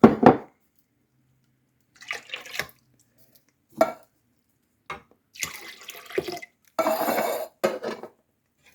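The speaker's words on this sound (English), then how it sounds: "And then 2 cups of water, which I will rinse my cans out with." Water is poured into tomato sauce cans to rinse them, making several short, close bursts of sloshing and metallic clinking separated by silence.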